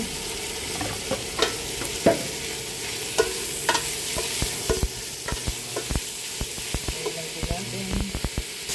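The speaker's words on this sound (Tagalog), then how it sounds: "Ayan po ang ating ginigisa. Hintayin po natin igisa natin ang ating chicken." Chicken sautéing in a pan for chicken lomi, the pieces already boiled beforehand; a steady sizzle runs throughout with repeated scraping and stirring clatters of a utensil against the pan, sharp clicks scattered over the hiss.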